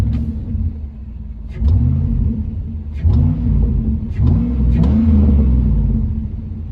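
A Chevy 1500 pickup engine idles with its fan removed, a close, steady low rumble with a few brief revs and light whirring, no talking over it.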